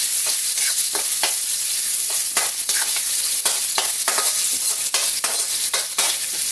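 Garlic and onion sautéing in a pan, a loud continuous sizzle with repeated scraping stirs throughout.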